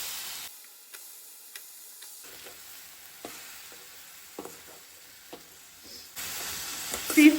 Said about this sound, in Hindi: टमाटर अच्छे से भुनने के बाद अब हम इसमें डालेंगे मशरूम।